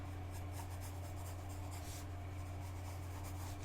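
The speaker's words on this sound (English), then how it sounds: "let's start sketching this." Pencil sketching a rough tattoo design on paper, a close, steady scratch of strokes over a low constant hum, with no talking.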